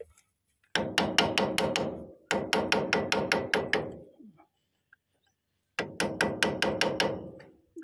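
Rapid hammer blows strike a chisel on a rice harvester's roller track in three bursts of about half a dozen sharp metallic hits each, with short silences between.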